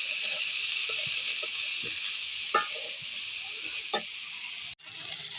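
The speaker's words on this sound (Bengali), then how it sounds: "তরকারি কষানো হচ্ছে" Potato curry being sautéed in a pan gives a soft, steady sizzle with a few light scrapes and taps of a spoon, fairly quiet and close, with a brief dropout near the end.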